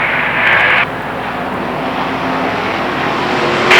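Modified race cars roar around the Lernerville Speedway dirt oval at a 1994 feature, engines droning steadily at a distance with a sharper rise at the start and again at the end.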